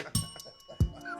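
Bell sound effect in a talk-show studio: two quick ringing dings with sustained tones, close and clear, a sharp strike near the start and another near the end, with faint studio sounds between.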